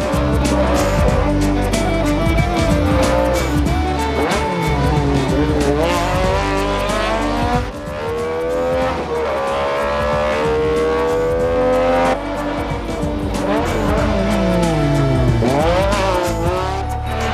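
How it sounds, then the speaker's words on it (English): A loud, rasping V6 rally engine in a 2001 Metro screams continuously, pitch climbing and dropping through gear changes, with tires squealing at moments; no voices. "with that V6 engine rasping in our ears"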